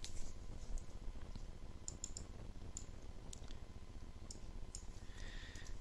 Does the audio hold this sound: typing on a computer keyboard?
yes